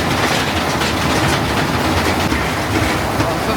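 Coal mine exhibit train ride underground, giving a loud, steady rattling and clattering of rail cars on track, continuous and close without a break.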